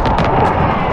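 A loud, booming explosion in the video game Call of Duty: Warzone bursts close up, filling the moment with a rough, rumbling blast.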